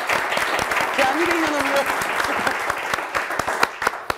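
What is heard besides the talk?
audience applause on a Turkish TV quiz show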